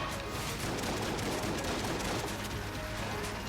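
Dense, continuous barrage of bullet fire from a boss in the Enter the Gungeon video game, a steady loud rattle of many shots running through the whole stretch.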